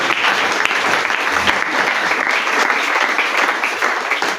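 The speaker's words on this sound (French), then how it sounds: "Acclame très fort, acclame très fort." A church congregation claps loudly and continuously in a dense, roaring wave of applause that fills the space from start to finish, with faint voices mixed in.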